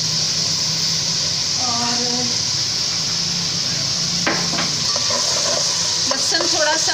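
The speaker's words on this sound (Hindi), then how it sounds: "लहसुन थोड़ा सा फ्राई करूँगी" Crushed garlic fries with onions in a pan for Arabian chicken mandi, a loud constant sizzle with a few spatula knocks and scrapes in the second half, while someone speaks over it.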